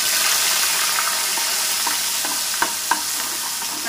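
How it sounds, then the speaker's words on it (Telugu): A blended paste of tomato, onion, green chilli and a little coconut frying in oil for palak paneer, a steady close sizzle with a few soft stirring knocks toward the end and no talk. "మంచిగా నూనెలో ఫ్రై కానియాలి"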